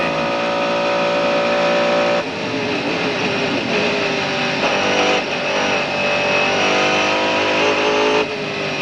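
From inside the cockpit, a Mercedes CLR race car screams at Le Mans down the back section toward the Porsche chicane. The engine roars loudly and continuously, with brief dips at gear shifts before it climbs again.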